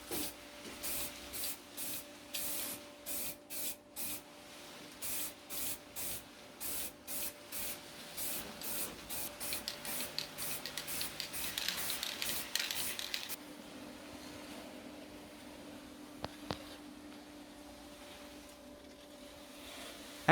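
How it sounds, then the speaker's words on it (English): An aerosol can sprays a second full coat of paint onto a wheel rim in repeated short hissing bursts, then a long continuous spray, then quiet with faint clicks. "After half an hour, spray the second layer completely."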